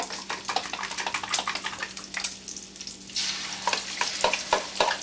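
Bacon frying in a pan gives a steady crackling sizzle, close and fairly loud, with bursts of sharper popping spread across the whole stretch and no talking.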